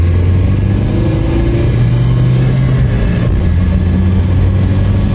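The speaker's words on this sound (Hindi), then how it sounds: "इंजन की नॉइज आप किड़किड़ किड़की सुनते हुए चलोगे" Maruti Suzuki Ritz VDi diesel hatchback engine pulls steadily while driving, a loud continuous low rumble with gentle rises in pitch as it accelerates, heard alone without talk.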